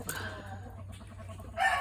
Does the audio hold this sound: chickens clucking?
yes